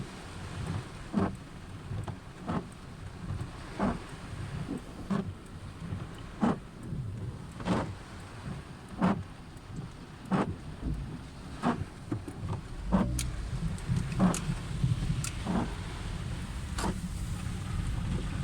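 Heavy rain pouring down during Typhoon Danas, a dense steady roar with repeated low rumbles and sharp crackling hits spread throughout, at moderate loudness and with no voices.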